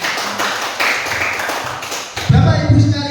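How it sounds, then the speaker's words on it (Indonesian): Applause for a positive-culture dissemination presentation at an elementary school gathering: scattered hand claps and taps, uneven and moderately close, swelling louder near the end, with some talking mixed in. "Tepuk tangan untuk diseminasi ini."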